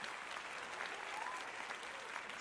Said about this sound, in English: yes, clap, clap, clap, clap, clap.